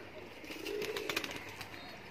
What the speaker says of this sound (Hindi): सफेद जमीन और रिंग वाली अख का कबूतर है